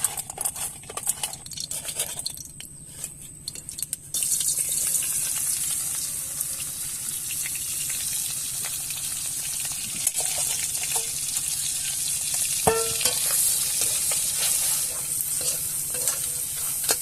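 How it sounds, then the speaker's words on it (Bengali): Crab frying in a pan with ginger-garlic paste and ground spices, a loud continuous sizzle with scraping stirring strokes, the sizzle jumping in intensity partway through. "পুরো ভেজে নেবে একদম লাল লাল করে"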